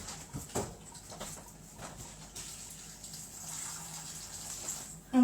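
Water pours from a tap into a pot of Icelandic fish soup in a home kitchen, a soft running splash that fades in and out, with faint background chirping.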